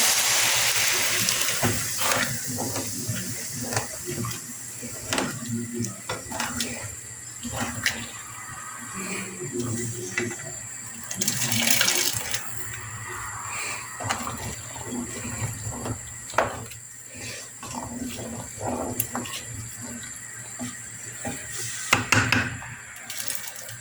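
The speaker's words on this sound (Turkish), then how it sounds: "pilavımın suyunu takıyorum" Water is poured into a pot of cooking rice pilaf in a home kitchen, a faint, steady splash and trickle with scattered clinks and knocks of the pot and utensils, no talking.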